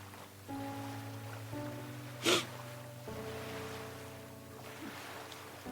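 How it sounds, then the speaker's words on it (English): Waves splash and wash in a steady, calm surf bed for a radio drama scene, with a low continuous hum underneath and one brief brighter splash near the middle; no voices. "the sound of waves splashing against each other, drowning out the city noises with calm"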